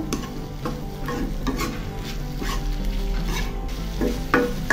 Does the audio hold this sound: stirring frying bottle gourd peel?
yes